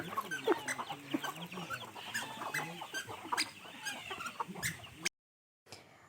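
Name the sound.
chicken clucking as a man catches it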